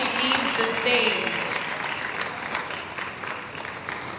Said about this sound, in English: Let's give her a round of applause as she leaves the stage